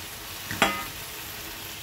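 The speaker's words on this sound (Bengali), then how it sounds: "এখন আমি দিয়ে দেবো আলু আর 2 কোয়া কাঁচা রসুন।" Chicken with potatoes and raw garlic sautés in a pan, a continuous close hiss of frying broken by two sharp scrape-like stirring bursts, with no voices.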